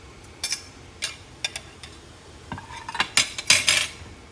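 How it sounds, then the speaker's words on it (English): Food goes back into a cooking pot with a series of sharp metallic clinks and scrapes of a utensil against the pot, sparse at first and then quicker and louder toward the end. "I'm just gonna put this back into the pot."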